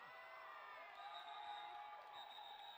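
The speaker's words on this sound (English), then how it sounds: "And the crowd goes wild." A crowd cheers at a Bont Invitational sports match between Kallio and Auckland, a steady sustained roar with whoops that swells slightly midway, heard from a distance.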